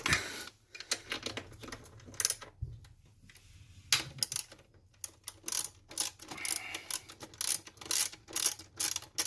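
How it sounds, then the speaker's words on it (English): Ratchet wrench with a 12mm socket loosening a bracket bolt on a 2014 Toyota Tacoma V6, heard as bursts of quick, close clicking separated by short pauses and a few low knocks, with no talking. "So I have to lose this bracket. For that, I'm gonna need a 12mm socket."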